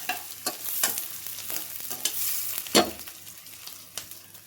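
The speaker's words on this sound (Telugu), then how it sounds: "ఇది కూడా వేసేసి మంచిగా కలపండి మాడకుండా" A spoon scrapes and clacks rhythmically in a pan as chopped carrot and green chillies are tossed over a light sizzle for chicken fried rice, close and steady with no talking.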